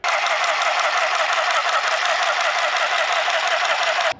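A sewing machine running continuously while stitching a curtain, a steady, even mechanical whir close by that stops abruptly at the end.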